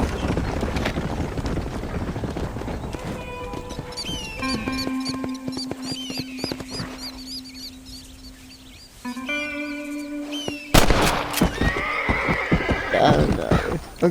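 In the Red Dead Redemption video game, a horse whinnies loudly and its hooves clop along, mixed with scattered game sound effects and tones, including a burst of sharp noises near the end.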